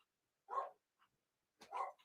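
Two sharp dog barks ring out in the open night air, loud and separated by a pause of about a second, with a faint yelp between them and no talking.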